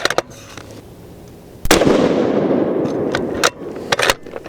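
A full custom lightweight Terminus Kratos rifle in 7 PRC fires a 195 g Berger load outdoors, giving one loud, sharp report with a long rolling echo that dies away over a few seconds, followed by fainter clicks.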